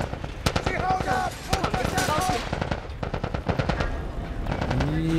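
Rapid machine-gun bursts and gunshots ring out in The Last of Us Part I, loud and dense, with voices shouting over the firefight throughout.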